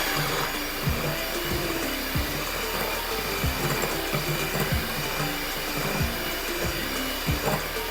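An electric beater whirs steadily through three eggs for fudgy brownie batter, a constant motor hum with soft repeated knocks as the beaters strike the bowl, close by and alone.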